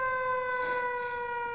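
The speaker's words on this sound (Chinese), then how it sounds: "外面要拉警报" An air-raid warning siren holds a steady, piercing tone with strong overtones, sounding continuously through a short stretch with a brief breathy noise passing underneath.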